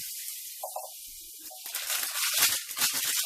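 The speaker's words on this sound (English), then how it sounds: "Just fry up the garlic a little bit." Garlic frying in a pan during a chicken stir fry, a steady sizzle that starts soft and grows louder and crackly, with a couple of brief clinks early on.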